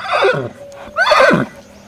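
A purebred Marwari stallion in Jodhpur neighs twice, loud and close. Each whinny is a long, shaky cry that falls in pitch, with a short pause between them.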